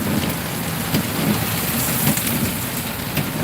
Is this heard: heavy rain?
yes